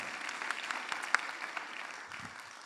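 An evening awards ceremony audience at a regional commerce trophy event gives faint, distant applause, a thin patter of claps with a few sharper individual hits.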